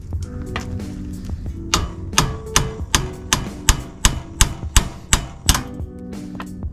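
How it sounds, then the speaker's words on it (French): Hammer taps on the tie rod of a 2005 Suzuki LTZ400 quad during steering repair: about a dozen sharp, close metallic knocks in an uneven rhythm, some single and some quick pairs. "Petit coup de marteau pareil."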